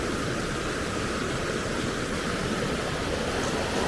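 A small river in Banff National Park flows steadily nearby, a constant broadband rush of water with no pauses, fairly loud and alone.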